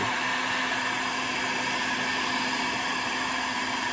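A heat gun blows steadily on vinyl siding to soften it for bending, a constant close whooshing hiss with a faint motor hum and no pauses.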